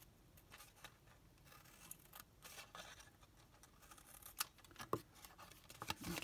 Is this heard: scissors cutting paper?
yes